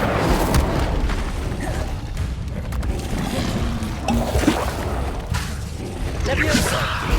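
The Incendio fire spell is cast in the Hogwarts Legacy video game. Game effects play as a steady, dense rush of whooshing bursts and booming pops, with a voice speaking over them.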